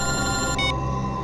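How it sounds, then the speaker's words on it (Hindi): A phone rings in a tense police drama scene, a steady electronic tone sounding continuously over a dense background music bed with no break. "एसीपी साहब का फोन?"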